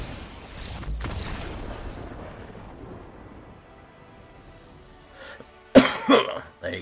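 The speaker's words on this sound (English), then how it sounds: "A little cough on there for the end for you." A person lets out a short burst of coughing near the end, several harsh, loud coughs in quick succession after a long stretch of quiet background rumble.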